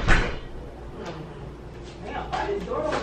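A house door pushed open, starting with a short thud followed by a soft scraping swing, close by, with muffled voices around it.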